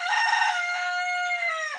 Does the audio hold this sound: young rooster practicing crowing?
yes